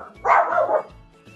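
A pet dog at home gives a single short, fairly loud bark that trails into a brief whine, close by against a quiet room.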